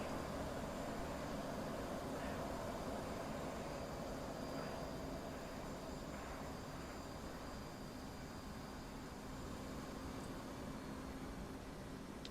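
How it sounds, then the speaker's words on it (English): An F-18 jet comes in to land in a DCS flight simulator game, heard as a steady, faint broadband engine roar and whoosh that holds level throughout without talk. "Right, let that plane land."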